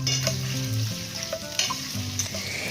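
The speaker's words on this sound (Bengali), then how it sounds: "এবারে পেঁয়াজটাকেও হালকা লাল করে ভেজে দেবো, খুব বেশি কড়া করে কিন্তু পেঁয়াজটাও ভাজবো না।" Thinly sliced onions frying with garlic over a high flame, a steady close sizzle with spoon stirring and scraping clinks throughout, no talking.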